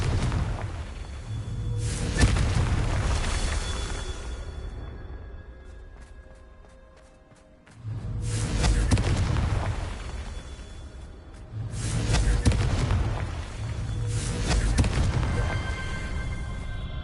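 Repeated Confringo blasting-spell explosions in Hogwarts Legacy, three broad booming bursts spaced a few seconds apart, each with a rumbling low body and crackling tail over continuous game ambience, with no talk.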